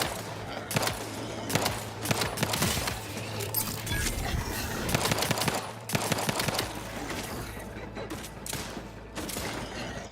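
A player's gun fires in the video game The Outer Worlds, letting out repeated rapid bursts and single shots that are loud and close, with game sounds mixed in.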